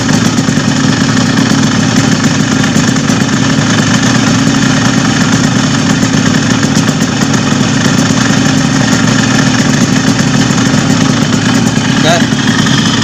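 A Yamaha RX King motorcycle engine runs loud and close in a steady, unbroken drone, with a voice faintly present underneath, during work on the side oil pump.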